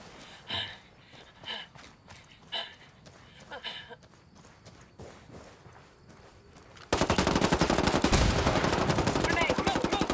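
Gunfire in a military shooter video game: scattered sharp shots and short bursts at first, then a sustained, loud stretch of rapid automatic fire.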